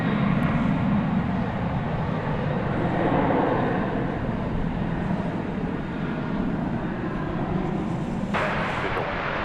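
A Boeing airliner takes off at DFW Airport at night, its engines giving a steady, loud broadband roar that holds through the whole stretch, with no voices over it.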